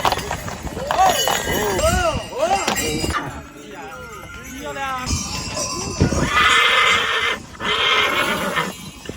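Friesian horses at a farm in Vicovu de Sus, Bucovina, neighing loudly in repeated whinnies amid hoof clatter and metallic clanks, with people talking over them.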